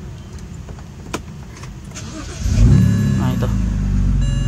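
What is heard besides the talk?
BMW 325i E90 engine starting with start/stop button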